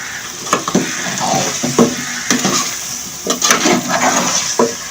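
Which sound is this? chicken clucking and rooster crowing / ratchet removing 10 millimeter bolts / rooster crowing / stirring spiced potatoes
stirring spiced potatoes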